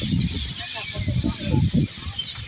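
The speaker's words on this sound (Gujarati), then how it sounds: "જોવો તો મિત્રો પોપટ કેટલા બધા છે કે જેનો અવાજ આવી રહ્યો છે" Parrots in a banyan tree at Jamnagar, a dense flock chattering and squawking in overlapping bursts, fairly close, with a loud, busy texture throughout and no clear gaps.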